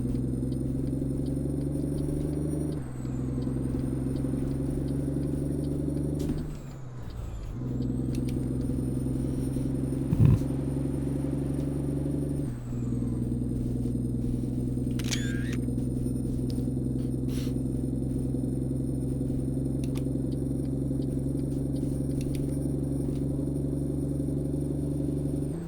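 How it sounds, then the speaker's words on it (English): A truck engine in American Truck Simulator runs steadily as a deep, continuous drone, with pitch shifts at gear changes and a few brief clunks and squeaks along the way. "I'm not sure what kind of engine we are running right now either"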